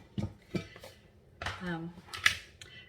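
A classic batter bowl is handled in a kitchen, giving a few light clinks and knocks against a surface, faint and scattered, with a voice speaking softly between the sounds.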